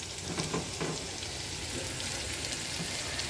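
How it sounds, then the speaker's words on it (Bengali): Onions fry in a pan with a steady, even sizzle like light rain, close and continuous for a few seconds, with no stirring or speech. "এখন পেঁয়াজটা আমি ভালো করে একটু ভেজে নিব"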